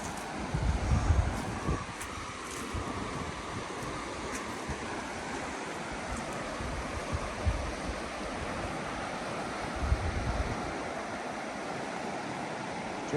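A river near a trailside camp rushes steadily with a broad, continuous wash of flowing water, occasional gusty bumps of wind on the microphone, no voices.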